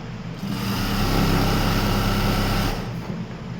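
A sewing machine runs steadily while stitching fabric pieces for a one-piece garment, a close, even mechanical whir lasting a few seconds before easing off.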